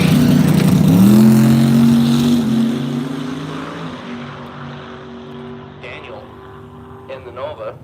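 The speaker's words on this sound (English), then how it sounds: "Smoking the tire a little bit" A drag racing car smoking its tire on a night run at Woodburn Dragstrip, a loud engine roar that peaks early and fades as it pulls away, with an announcer talking over it.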